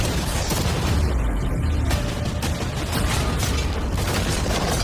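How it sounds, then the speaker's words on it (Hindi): Cannons fire cannonballs at a new yacht, producing loud booming blasts over a dense, steady roar of outdoor noise, with the impacts blending into a continuous rumbling wash. "अब हम तुम्हारी नई यॉट पर कैनन्स को शूट करने वाले हैं।"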